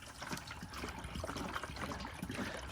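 Water pours steadily into a Jeep rock crawler's cooling system, a faint, continuous gurgling trickle with small bubbling splashes and no talking.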